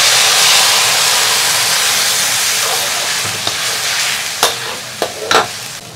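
Freshly mixed sauce hits a hot wok of stir-fry and breaks into a loud, dense sizzle and hiss that slowly eases, followed near the end by a few sharp clacks of a spatula against the pan.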